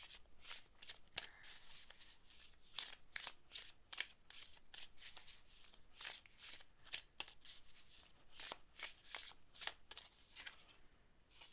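Tarot cards are shuffled again and again up close, each riffle a quick papery flutter, in a fairly regular rhythm with short pauses between.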